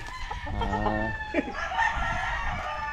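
A backyard rooster crows once, loud and near, among other chickens clucking, with a faint voice in the background.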